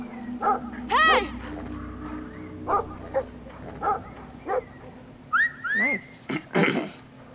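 A dog in the PS4 game Brothers gives several short barks, yips and whimpers in separate bursts alongside whistle-like calls, with a player's voice talking over parts of it.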